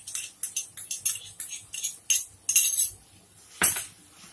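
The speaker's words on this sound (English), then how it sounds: "Mix everything together." A metal spoon stirs cream and sugar into a curry in a pan, clinking against the pan in a quick, steady rhythm of light scrapes and taps, close and alone.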